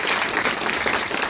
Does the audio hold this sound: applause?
yes